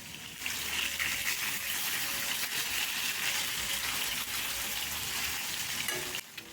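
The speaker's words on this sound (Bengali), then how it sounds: "তো মাছটা আমি ভেজে নিই" Rohu fish frying in a pan of hot oil, a steady, close sizzle with a little spatter that carries on without a break and cuts off briefly near the end.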